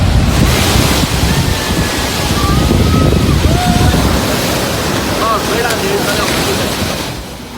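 Rough, surging sea waves crash along the coast at Puducherry, a loud, continuous roar of surf mixed with heavy wind buffeting the microphone.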